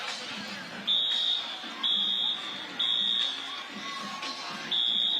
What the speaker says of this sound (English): And now the fire alarm is going off.